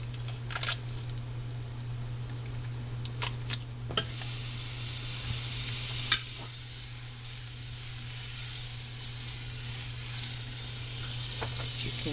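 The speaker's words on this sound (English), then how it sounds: "I have a hot skillet. I'm going to add a little bit of olive oil." Olive oil and butter sizzling in a hot skillet, a loud steady hiss that swells after a few sharp clicks and taps, holding constant over a low background hum.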